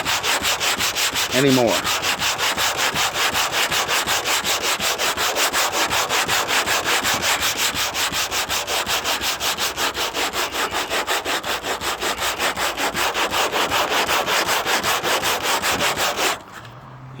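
Crosshatch sanding of the paint on a 1957 Chevrolet Bel Air: a loud, close, continuous rasping scrape with fast, even back-and-forth strokes for about sixteen seconds. A brief voice is heard near the start.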